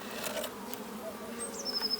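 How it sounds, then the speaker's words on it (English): Honeybees in a box being transferred into a hive, a soft, constant buzzing hum with a few louder passing drones and some light handling noise, faint and close. "here are my bees ready to go into the hive"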